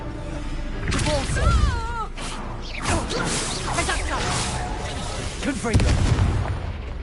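A Bombarda blast spell in Hogwarts Legacy goes off with whooshing magic and booming, explosive bursts amid combat noise, while a character talks and warbling tones sweep through.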